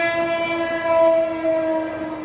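A train's horn sounds steadily, loud and fairly close, as the train passes near a railway station heard from a nearby home, with no speech over it.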